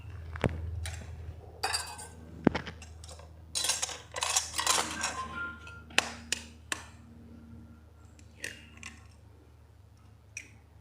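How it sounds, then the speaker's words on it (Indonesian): Eggs being cracked for homemade mayonnaise: a few sharp taps and clinks of shell against a bowl, followed by quiet kitchen clatter and scattered clicks, fairly close and soft, with no talk. "sekarang kita akan pecahkan dulu telurnya"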